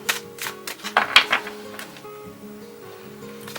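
Oracle cards shuffled and pulled from a deck, a run of crisp papery flicks and slaps close by in the first half, then trailing off under a faint tonal background.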